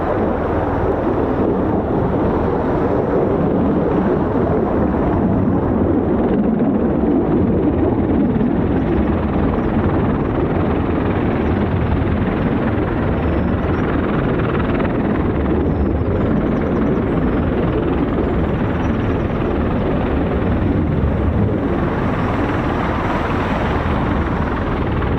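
A CV-22 Osprey tiltrotor aircraft with 38-foot rotors runs as a loud, steady, throbbing rotor and engine roar that continues without pause, with wind rumble on the microphone and no talking.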